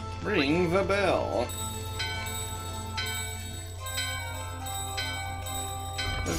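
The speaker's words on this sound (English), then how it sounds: "Ring the bell." In Final Fantasy 9, a bell rings several times in a slow, steady rhythm, each strike bright and ringing out over a constant low drone, following a warbling tone and voices at the start.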